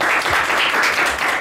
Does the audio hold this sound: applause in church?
yes